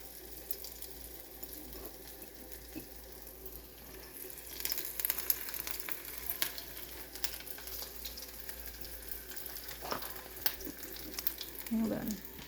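Homemade egg rolls frying in hot oil, a continuous crackling sizzle that grows busier and louder as they go in, with faint handling noises and occasional speech.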